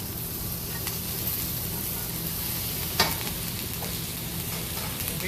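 A steak sears in a pan with butter, fresh thyme and garlic, producing a steady, loud, close sizzle and crackle throughout, with one brief sharper pop partway through.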